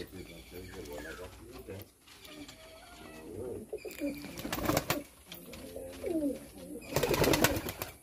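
Madrasi pigeons cooing in a loft amid ongoing talk, with low warbling coos recurring through the clip and louder bursts of movement near the end.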